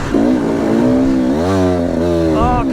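A motorcycle stuck in place revs loudly and close, its engine note rising and falling in pitch through several throttle swells over a steady rumble.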